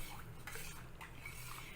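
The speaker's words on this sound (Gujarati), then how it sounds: "અને હવે થોડીક વાર આમાં પણ ચમચો ફેરવ્યા કરવાનો છે" Soft, faint scraping of a spoon going round in a pot of jaggery kheer, a continuous low stirring with no talking.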